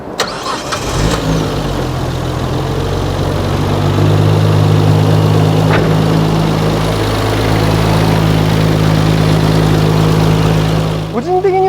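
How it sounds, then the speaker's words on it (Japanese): A Nissan Skyline GT-R's RB26DETT twin-turbo straight-six, fitted with Nismo camshafts, cranks and fires after about a second, then settles into a loud, steady, close idle that runs uninterrupted to the end. "じゃあエンジンかけてみましょう。"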